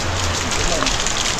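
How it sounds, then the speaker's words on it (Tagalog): Heavy rain pours down outdoors in Palawan, a dense, loud, continuous hiss of drops drumming on surfaces, with a brief voice murmuring underneath. "Sobrang lakas ng ulan."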